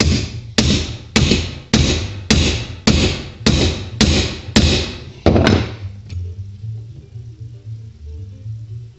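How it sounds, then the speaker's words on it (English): A hammer strikes a setting tool to seat a washer onto a rivet, about ten sharp, evenly spaced close blows with ringing decay, then stopping. "I'm going to use this as a setting tool to set the washer down on top of the rivet first"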